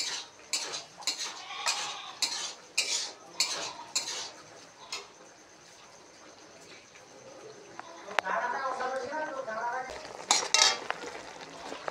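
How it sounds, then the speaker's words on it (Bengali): Soybeans fry in a pan for a soybean and potato curry, with a run of metal spoon clatters and stirring knocks followed by a softer, continuous sizzle and scattered clinks. "সোয়াবিন ভেজে নিচ্ছি, সোয়াবিন আলু তরকারি"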